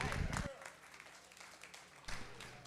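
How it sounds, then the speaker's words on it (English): Audience applause at a convention fundraising session, a burst of clapping at the start that fades under a talking voice, then swells again near the end. "Let's give him a round of applause for that."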